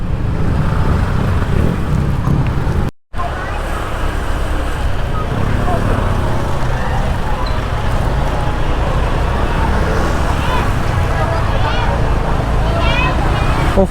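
A heavy traffic jam on a busy Phuket street: a loud, continuous wash of engine and road noise mixed with crowd babble and scattered voices, with one brief dropout partway through.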